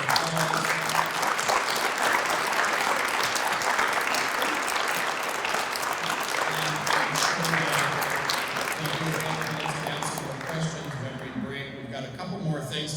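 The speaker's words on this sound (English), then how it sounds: "Let's give them a great big round of applause." A large audience applauds steadily at an ocean-science open house presentation, a dense, continuous wash of clapping that holds for several seconds before thinning toward the end, with faint voices underneath.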